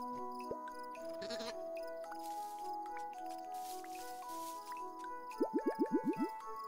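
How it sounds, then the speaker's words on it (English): Cartoon sheep in the video game Carto give a quick run of about six short, wavering bleats near the end, over soft background game music and chimes. "Come with me, little sheep."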